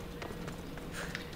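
Horse hooves clip-clopping at a steady run in Assassin's Creed Odyssey, a few quick rhythmic beats over a constant game background.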